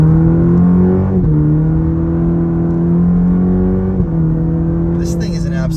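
A 2023 Cadillac CT4-V on the gas through a sharp turn, its engine droning loud and steady with strong low harmonics, stepping up in pitch twice as it pulls, heard from inside the car.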